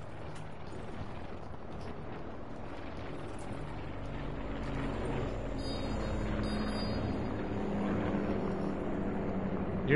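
A supply drop aircraft in a Call of Duty style shooter passes overhead, a steady droning engine rumble that swells slightly and fills the background without talk.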